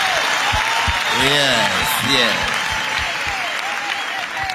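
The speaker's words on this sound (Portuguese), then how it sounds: "Dá para bater palmas de verdade?" A church congregation claps hands together in a steady, lively burst, while a voice speaks and sings out over the applause.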